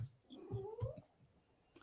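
A cat lets out a drawn-out rising yowl, fairly quiet and close, with some faint thumps and low background noise around it.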